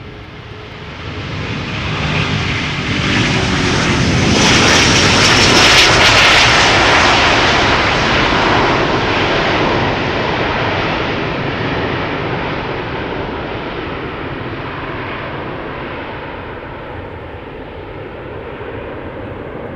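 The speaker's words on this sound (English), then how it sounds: "Delta Airlines Flight 57 A330neo outbound Salt Lake City in Utah" A Delta Airlines Airbus A330neo jet airliner takes off at Schiphol's Polderbaan runway, its engine roar swelling to a loud, broad rumble that peaks and then slowly fades into the distance, with no voices over it.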